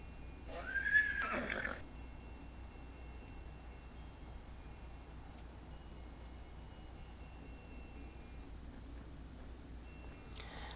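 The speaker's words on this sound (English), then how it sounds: "We have a nice little carriage and horse there too." In the Second Life virtual world, a horse standing by a carriage lets out a single short whinny near the start, followed by a long stretch of quiet ambient background.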